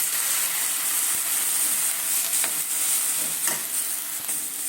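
Moringa flowers frying with onions in oil, a steady, close hissing sizzle with occasional scrapes of stirring, no one speaking.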